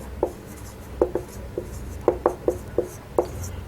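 Pen writing by hand on paper during a math lesson, a series of short scratchy taps and strokes in an uneven rhythm, close and fairly quiet, with no talking.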